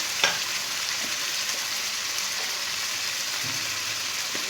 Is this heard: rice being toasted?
yes